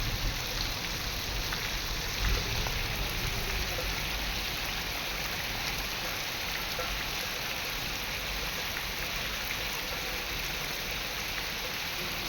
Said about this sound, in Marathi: जोराचा पाऊस शेतकरी खूप नाराज आहे